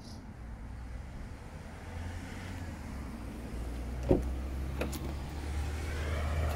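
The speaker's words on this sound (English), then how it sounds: "electric windows in the rear" Rear electric windows on a Ford Kuga Titanium X Sport 2.0 TDCi motor up and down inside the car, a steady low whirring hum with a couple of soft clunks as the glass stops, no talking.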